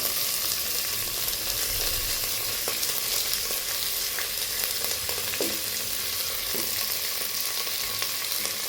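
Mint and coriander leaves stirred and fried in a hot pan, a dense, loud, unbroken sizzle close by with occasional soft scrapes of a spoon, and no talking.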